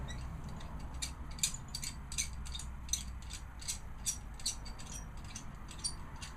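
A screw-lock carabiner on a homemade suspension trainer anchor is twisted shut, giving a quiet, rapid series of small metallic ratcheting clicks at a fairly even pace.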